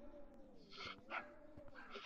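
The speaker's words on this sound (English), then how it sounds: "are those dogs alright?" Dogs bark and whimper somewhere off at a distance, several short yips and barks spread over a couple of seconds beneath a steady low hum.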